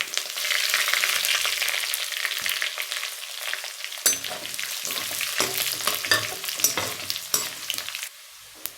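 Dried red chillies frying in hot oil with fennel seeds, bay leaf, cinnamon and star anise for a country chicken chilli fry: a loud, steady crackling sizzle, punctuated by sharper pops and stirring clatter, with no voices.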